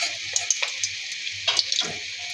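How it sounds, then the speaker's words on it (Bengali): Cabbage pakoras frying in hot oil, giving a bright continuous hiss with small bubbling pops and a few soft knocks, close and fairly quiet, with no one speaking. "এখন পাকোড়াগুলি ভেজে নিব।"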